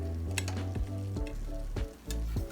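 Alfredo sauce heats to a boil in a pan, a close bubbling sizzle with small pops and ticks that keeps going throughout the short stretch.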